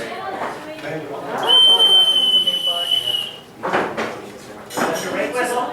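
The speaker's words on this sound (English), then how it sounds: "It's a rape whistle." A rape whistle blown once in a comedy club, a piercing, steady shrill tone held for about two seconds amid loud crowd noise and people talking.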